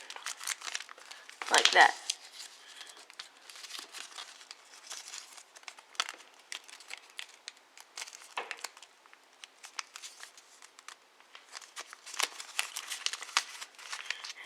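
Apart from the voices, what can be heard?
paper being folded into an origami snail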